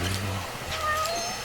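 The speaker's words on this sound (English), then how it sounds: "Anyway, there's a cat somewhere." Cat in the video game Judgment lets out a couple of short, fairly close meows over a low background hum.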